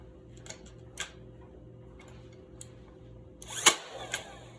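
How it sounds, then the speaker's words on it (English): Battery-powered stapler fastening hardware cloth to a chicken and rabbit tractor frame, faint ticking clicks over a low hum, then a louder sharp snap of a staple being driven, with no speech. "So we're using a battery staple"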